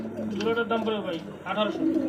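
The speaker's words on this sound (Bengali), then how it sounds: "দেখেন নটটা ডাকতেছে" A male fancy pigeon coos close by in a pigeon market, giving a few throaty rolling calls in a row.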